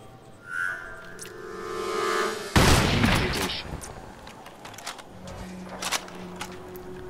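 Gunfire in the video game Crysis: a sudden loud burst of shots cuts in among whistling and tonal game sounds, followed by scattered quieter impacts and footsteps in a busy game soundscape.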